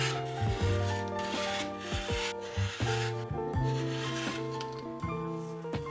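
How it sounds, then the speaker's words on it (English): Scissors or a rotary cutter working through stretchy leggings fabric, with soft rubbing and cutting strokes close by, quiet and steady with irregular scraping pulses. "using that height to cut as many strips of fabric as I can from my remaining pieces"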